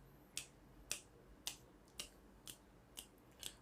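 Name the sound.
finger snapping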